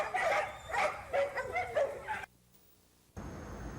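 Dogs at an animal shelter bark and yip repeatedly in rapid, overlapping bursts, fairly close, before the sound cuts to near silence and then a faint background hum.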